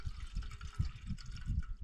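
Water splashes and trickles into a pot on a camping stove for miso soup at a remote Scottish loch, a quiet, uneven pouring gurgle up close with no talk.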